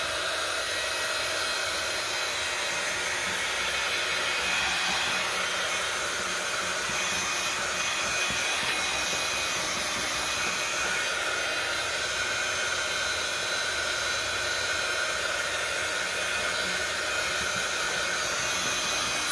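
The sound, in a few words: dryer drying paper for a cereal box journal cover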